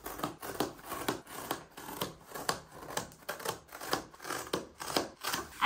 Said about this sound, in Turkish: Kutumuzu uygun şekilde kesiyoruz